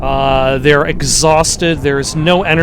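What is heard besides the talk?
No distinct noise like a dog, phone or traffic.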